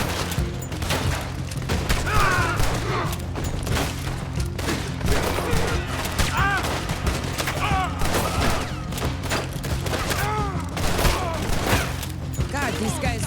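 Dense video game gunfire in a shootout with police: rapid volleys and bursts of shots crackle continuously, with booms and mechanical clatter, and a voice talks over the action.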